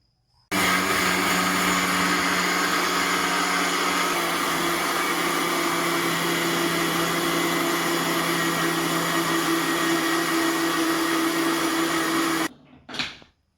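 A kitchen mixer grinder whirs loudly and continuously for about twelve seconds while grinding dosa batter, then cuts off abruptly, leaving a brief clatter.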